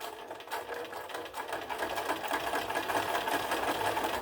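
A sewing machine stitches embroidery lines across a fabric square, a fast steady mechanical whir and rattle, close and continuous at moderate level with no talk.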